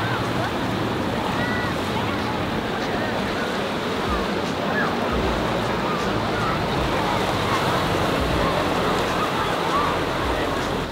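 Ocean surf rolls in at Cronulla Beach in Sydney, a constant broad wash of breaking waves mixed with wind buffeting the microphone, steady and moderately loud throughout.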